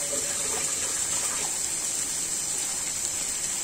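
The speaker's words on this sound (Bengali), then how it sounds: "এই যে দেখুন পানি দিচ্ছি" Water is poured into a cooking pan of lotir curry spiced with masala, a steady close gushing and splashing that runs without pause.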